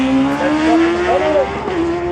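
A drag racing motorcycle roars down the strip alone on a bye run at a raceway nationals event, its loud engine note sustained and rising in pitch across the stretch.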